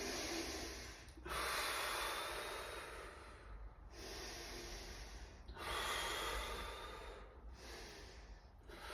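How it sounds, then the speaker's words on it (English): Slow, deliberate breaths drawn through the nose during a breathing exercise, three long airy inhales and exhales separated by short pauses, close and quiet. "And then 3 breaths through your nose."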